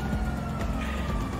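A police car siren blares continuously in GTA Online during a casino heist getaway, loud and steady with engine rumble beneath.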